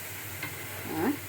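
A small splash of water hits a hot kadai used for frying cumin, giving a brief hiss and sizzle that swells near the end of the moment, heard up close with no talking.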